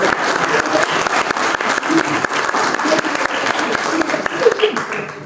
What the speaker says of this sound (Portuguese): peço uma salva de palmas para receber o Hugo